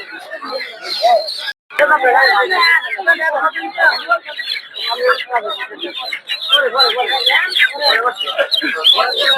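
Many native chickens and chicks chatter and cluck together in a dense, continuous flock noise at a poultry market, with voices talking over it throughout.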